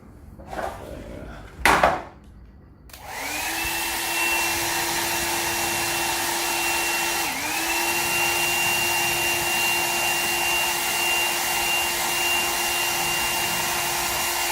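After a couple of short knocks, a Xiaomi Mijia Reepro hair dryer starts and runs with a steady, loud whir, its pitch jumping briefly midway as it switches from level 1 to level 2.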